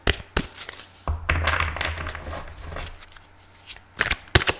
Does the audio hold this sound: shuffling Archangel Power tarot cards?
yes